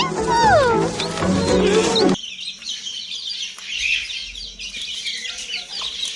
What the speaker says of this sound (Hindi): जिस तरह मुर्गी चूजों को बुलाने लगी हुई है